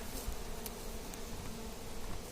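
Honeybees buzzing at the hive during a varroa mite test, a faint continuous droning hum with a few louder passes of individual bees close by.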